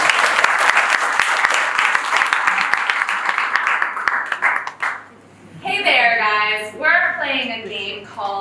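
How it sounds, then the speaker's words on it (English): Loud, steady applause from an improv comedy audience fills the first five seconds, then fades as people begin talking. "please give a big round of applause for Laura, Chris, and Steven."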